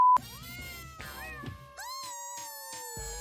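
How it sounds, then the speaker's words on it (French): A cat attacking gives drawn-out, rising and falling meows and yowls that run almost without pause, close and clear, preceded by a brief electronic beep. "Son chat se met à l'attaquer."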